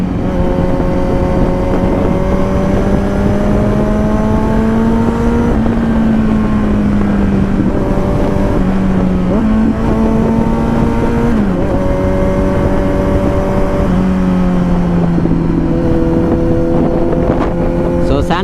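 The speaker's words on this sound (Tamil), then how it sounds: "வண்டியோட சவுண்டை கேட்டுக்கிட்டே அப்படியே மெதுவாக ஹைவேஸில் போயிட்டே இருக்க சொன்னால் போயிட்டே இருக்கலாம் போல்." A 2021 Kawasaki Z900 motorcycle cruises along a highway, its engine and exhaust holding a steady, loud drone with gentle rises and dips in pitch as the throttle shifts, accompanied by constant wind rush.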